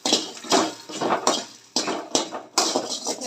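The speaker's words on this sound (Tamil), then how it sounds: "ஸோ இதெல்லாம் வதக்க போகிறேன்" Ingredients sauté in a pan with ginger, tomato and onion for a thuduvalai chutney, heard as a series of clattering spatula strokes against the metal pan with short gaps and only faint frying between them.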